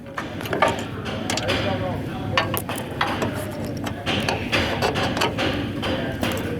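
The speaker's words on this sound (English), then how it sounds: "next you put the bolt in, put it in through the back side." A bolt is pushed through a leaf spring shackle on a Chevy pickup truck, making a busy run of close metallic clinks, scrapes and rattles over steady background noise.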